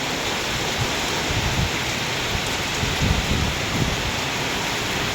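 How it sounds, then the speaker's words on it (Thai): Heavy rain lashes down during a storm, a dense, steady downpour close by with a continuous hiss and scattered heavier patters, with no voices. "ทางลมทางฝนเลย"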